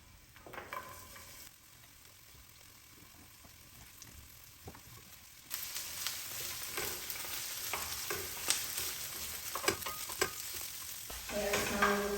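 Onions frying on low heat with shredded beef for Cuban vaca frita, a steady sizzle with stirring scrapes that grows louder and denser partway through, with no talking.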